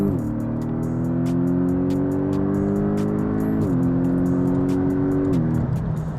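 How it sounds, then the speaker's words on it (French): Porsche 718 Boxster GTS with a mid-rear engine, revving up through the gears with a rising, snarling exhaust note, two clear upshifts with brief dips, loud and close from inside the car. "ils ont quand même réussi à faire un bruit à l'échappement qui est sympathique avec des retours"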